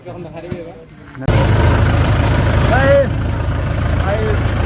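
A tractor engine runs during a rural wedding procession, its loud, steady low rumble kicking in abruptly after a quieter opening and continuing throughout, close by, while people talk over it.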